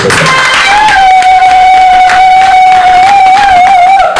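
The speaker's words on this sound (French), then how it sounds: "Est-ce qu'on peut l'applaudir encore très bien?" A loud crowd claps and cheers continuously, with a sustained whistle or tone riding over the applause.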